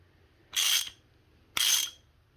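A 15mm wrench snugs a 22mm oil pressure sensor into a Benzforce banjo port fitting on an OM617-swapped vehicle, making two short, crisp ratcheting bursts about a second apart with quiet between them.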